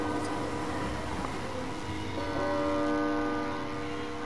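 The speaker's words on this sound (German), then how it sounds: "Und da klingelt die Uhr." Clock bell ringing in the LEGO The Incredibles video game, sustained bell-like tones ringing out steadily and fairly loud for several seconds over a dense game background.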